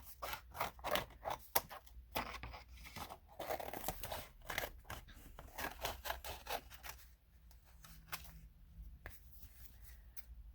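Scissors snip away the excess paper around the edges of a small altered notepad, a close, rapid run of crisp cuts and crunches that thins out into quieter scattered snips toward the end.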